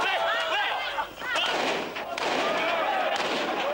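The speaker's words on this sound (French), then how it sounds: "des coups de feu." Gunfire crackles outside a stadium during unrest in 1997 Zaire, sharp reports heard from a distance under a steady crowd roar and agitated voices.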